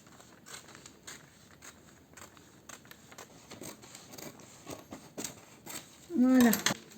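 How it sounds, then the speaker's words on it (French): Paper being cut with scissors while making a homemade advent calendar, a series of soft crisp snips spread over several seconds, ending in a louder rustle with a brief squeak. "Donc, maintenant, on coupe."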